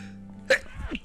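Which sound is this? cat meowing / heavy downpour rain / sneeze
sneeze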